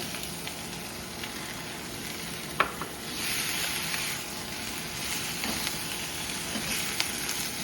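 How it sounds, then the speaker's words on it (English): Shrimp sizzle in butter in a pan, a soft, even frying hiss with a sharp clack near the start and light stirring noises later, no voices over it. "So let's just put this shrimp in."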